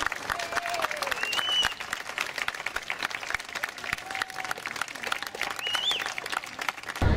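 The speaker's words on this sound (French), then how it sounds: "on peut vraiment leur faire un tonnerre d'applaudissements," Audience at a wedding celebration breaking into sustained applause, dense clapping from a crowd with scattered whoops and cheers rising over it, fairly close and lively throughout.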